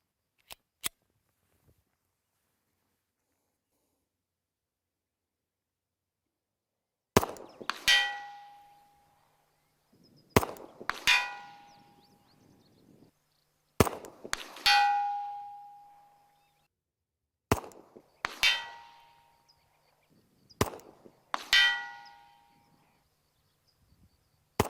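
Glock pistol shots fired at a steel Metal Man target 200 yards away on a range: five or six sharp reports spaced a few seconds apart, each followed shortly by a ringing metallic clang of the hit steel, in otherwise quiet surroundings.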